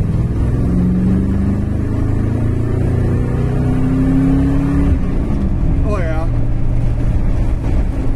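Ford Ranchero 500 GT V8 on a test drive, the engine loud and close as it revs and pulls, pitch climbing steadily before easing off, with a brief voice at the end.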